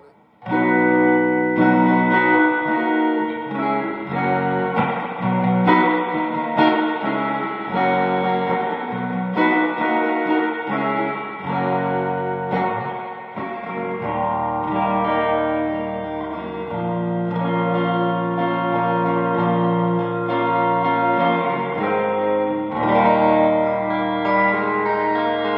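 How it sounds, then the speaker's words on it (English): An electric guitar plays through a Source Audio True Spring reverb pedal, each note trailing a wet, splashy drip and echo; continuous, fairly loud, no talking. "Definitely got a good drip sound on it."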